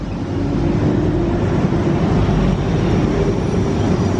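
A freight train passing the platform at Ealing Broadway, a loud, steady rumbling roar of wheels and wagons close by, with wind buffeting the microphone and no talk.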